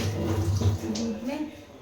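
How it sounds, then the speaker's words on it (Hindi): Milk and water pour into a pan in a home kitchen, a steady liquid splash over low clatter, with someone talking over part of it. "इसमें दूध पानी डाल देती हूँ"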